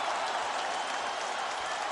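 A virtual arena crowd in the UFC 3 video game applauds and cheers at the close of a fight, a dense, steady roar of clapping that holds at full volume with no pause.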